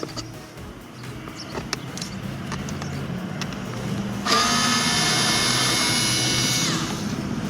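Power drill or driver backing out the two screws holding the rear door window switch on a Mazda CX-7, a whirring burst that starts suddenly midway and runs steadily to the end over faint background clatter.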